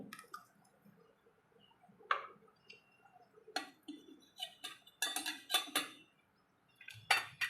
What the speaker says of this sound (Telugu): నేను ఇందులోకి 3 ఎగ్స్ తీసుకుంటున్నాను అండి